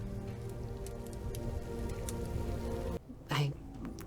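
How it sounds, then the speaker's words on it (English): Steady rain falls at night in the Left 4 Dead No Mercy campaign, a dense hiss and patter throughout, briefly dropping away near the end before a short sharper sound. "I kind of love how No Mercy is perpetual rainy night."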